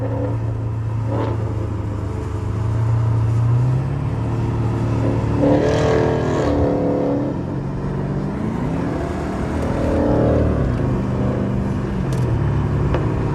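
A Dodge Charger R/T engine rumbles and revs nearby while driving, with intermittent sharp pops and crackles from the exhaust over the steady drone.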